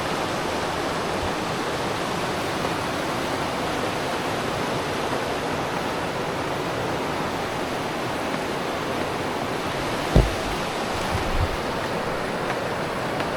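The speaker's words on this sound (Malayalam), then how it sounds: "ഇപ്പോൾ ഇതാ പുഴ നിറഞ്ഞൊഴുകുകയാണ്" The Poonoor river runs swollen and full in the rainy season, a dense, steady rush of water heard close and continuous, with a brief knock partway through.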